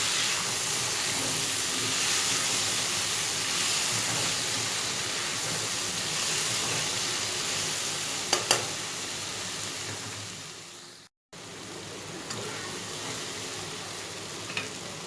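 Okra and tomatoes fry in a pan with a dense, steady sizzle and hiss, close and continuous, broken by a brief cut and a few faint clinks of stirring.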